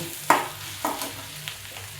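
Onions frying and being stirred in a pan for onion chutney: a low sizzle broken by three or four distinct scraping stir strokes, close and clear, with no talking.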